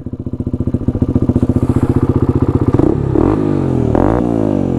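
An ATV engine idles with a steady, rapid chugging putter, then rises and wavers briefly as the throttle is blipped, close and loud.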